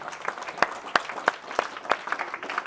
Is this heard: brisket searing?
no